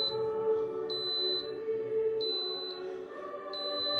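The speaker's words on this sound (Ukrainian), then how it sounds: "Итак, момент А пикает." A Tefal multicooker gives out a series of high electronic beeps, three evenly spaced tones over a low background hum, near and clear.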